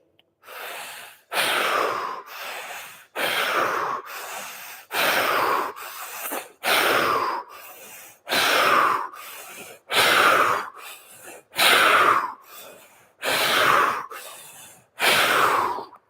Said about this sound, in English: Let's do 9 big breaths followed by a stage.